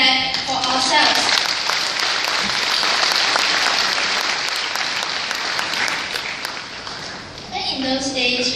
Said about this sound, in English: Let us give us a big, big clap for ourselves.